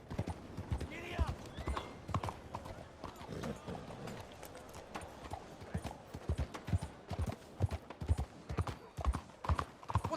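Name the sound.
horse galloping, from the video game Red Dead Redemption 2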